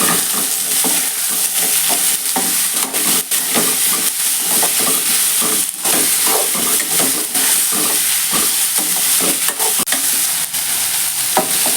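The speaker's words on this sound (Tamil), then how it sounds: "இப்போ காய்கறிலாம் சேர்த்து ஒரு வதக்கலாம்" Carrots, beans and drumsticks being sautéed in a pan for urad dal sambar. A constant close sizzle runs throughout, broken by frequent scraping stirs of the spatula, with no talking.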